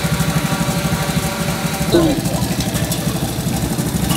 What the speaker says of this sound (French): Les gros moteurs de Leonidio,